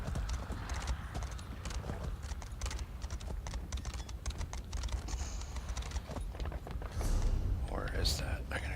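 Horse hooves clip-clop in a steady galloping rhythm while riding in the video game Elder Scrolls Online, continuous and fairly close, with faint soft voice-like murmurs mixed in.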